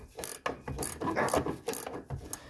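Ratcheting wrench working a nut loose on a 1981 Mercedes 300SD, a close series of short rasping clicks and strokes in an uneven rhythm.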